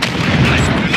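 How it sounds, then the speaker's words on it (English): Rocket explosions and heavy blasts in the video game Call of Duty Modern Warfare 2, a dense, loud rumbling barrage filling the whole moment, with a voice faintly present underneath. "Rockets!"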